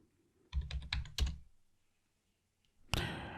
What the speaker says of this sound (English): we'll just type yes to confirm